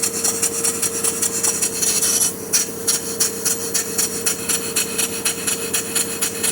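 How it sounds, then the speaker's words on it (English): A small early steamboat engine runs steadily, giving a rapid, regular chuffing beat with a constant mechanical hum underneath, close up and moderately loud, with no talk over it. "The little engine runs good."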